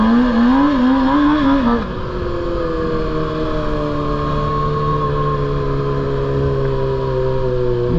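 A stunt motorbike drifting, its engine loud and close, revving with a wavering pitch and then holding a steady, sustained drone.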